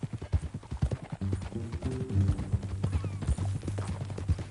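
Steady clip-clop of horse hooves trotting at a brisk rhythm in the video game Red Dead Redemption 2, fairly close, with a brief whinny-like tone and music-like tonal bands underneath.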